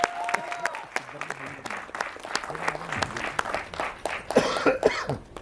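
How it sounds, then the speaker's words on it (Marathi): Audience at a film event claps together in a dense, lively burst of applause lasting several seconds, with coughs and murmuring voices mixed in. "एकदा जोरदार टाळ्या झाला पाहिजे"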